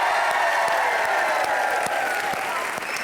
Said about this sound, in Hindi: अगर कृष्णा की टीम जीती है तो जोरदार तालियां।